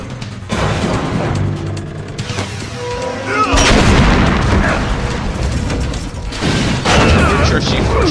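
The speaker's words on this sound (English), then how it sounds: "I'm sure C4 should have exploded a lot worse than that" A C4 explosion in Metal Gear Solid: The Twin Snakes booms loudly and close, with a rumbling, crashing tail and further heavy blasts and impacts following amid game noise.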